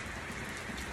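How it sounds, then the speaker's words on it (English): Rain mixed with sleet falls steadily outdoors, a dense, even hiss of drops at moderate loudness with no voices. "It is raining, so excuse the rain."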